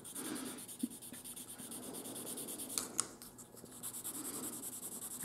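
Pencil graphite is rubbed across a wooden surface on a wooden steam engine model, giving a faint, continuous scratchy scraping with small rhythmic strokes and a couple of light taps, close up and without talk.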